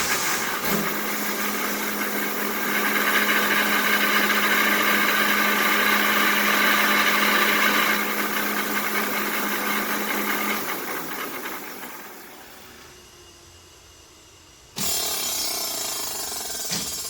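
A fabric roll slitting machine runs with a loud, steady mechanical drone and hum for about twelve seconds, then winds down to a quieter lull before a different bright, constant machine noise starts near the end. No one speaks.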